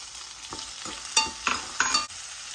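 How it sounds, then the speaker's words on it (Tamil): Bell peppers of mixed colours are being stir-fried with onion and garlic for kothu parotta, giving a light sizzle with several sharp scrape-and-toss bursts from the spatula toward the end. The sound is close and moderate, with no voices. "கலர் குடமிளகா போட்டிருக்கேன் அது கொஞ்சம் லேட்டாக ரெண்டு கிண்டு கிண்டினதுக்கப்புறம் தக்காளி போடப்போகிறேன்"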